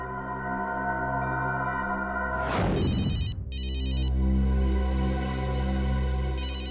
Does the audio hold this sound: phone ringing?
yes